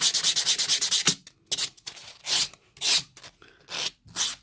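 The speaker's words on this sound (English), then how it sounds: "So I'm just going to get my white buffing block." White buffing block smoothing acrylic nails on a practice hand trainer: a quick run of short scrubbing strokes, then slower separate rasps with gaps between them, close up and quiet.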